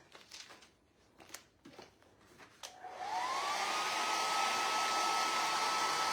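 A hair dryer used to dry a floral craft piece starts after some quiet handling and light clicks, then settles into a loud, steady blowing whoosh with a rising whine.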